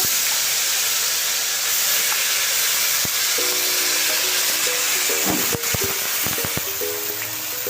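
Onion paste sizzles in hot oil seasoned with whole cumin, dried red chillies and bay leaves while kadai paneer is being cooked. A steady, close hiss runs throughout, with a few clinks and brief louder spits near the end.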